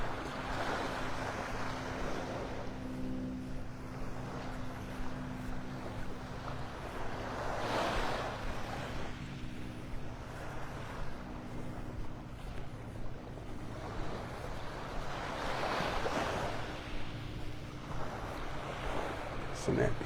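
Ocean waves rolling onto a beach at Delnor-Wiggins State Park in North Naples, with steady wind noise over the microphone; the surf swells in broad, recurring washes under continuous wind, and a voice talks faintly at points.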